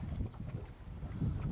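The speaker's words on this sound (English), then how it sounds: "It's pretty windy and wavy out here." Low, blustery wind buffets the microphone out on open water, a constant rumbling roar with gusty swells.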